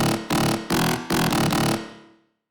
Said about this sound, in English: Sounds like a growl, sounds really terrible.